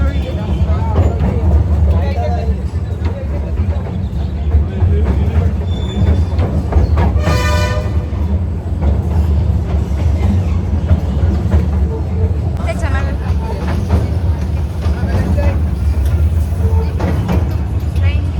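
A steady rumbling ride inside a moving train, with continuous low mechanical noise and a brief horn-like tone partway through, people talking over it.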